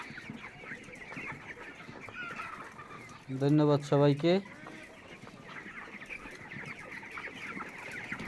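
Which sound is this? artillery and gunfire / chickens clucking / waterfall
chickens clucking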